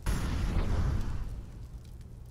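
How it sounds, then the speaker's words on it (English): An incendiary grenade in the CS:GO video game bursting into a loud whooshing rumble of flame that gradually fades into a lingering low roar, with no speech. "Incendiary out."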